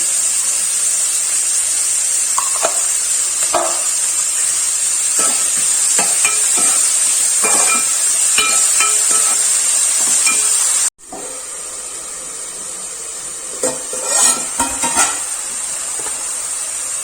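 Salted onions fry in a pan for a spicy mushroom soupy noodle dish, giving a loud, constant sizzling hiss broken by scattered scraping taps of stirring. There is a brief dropout near the end, after which the sizzle resumes slightly quieter.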